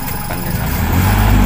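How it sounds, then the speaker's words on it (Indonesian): A tractor engine running while forming raised planting beds, a loud close rumbling drone that swells heavier toward the end, with no voices. "Dilakukan dengan alat traktor."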